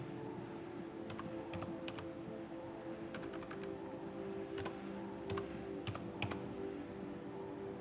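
Sparse keystroke clicks from a computer keyboard as a username is typed during a Windows XP installation on a PC, soft and irregular over a steady low machine hum, with no talking.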